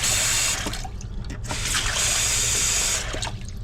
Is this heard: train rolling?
no